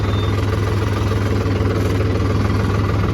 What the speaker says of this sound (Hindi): चलो एक्सीलेटर लोग खोलवाएं यार, करीबन 3000 RPM तक खोलवा दे।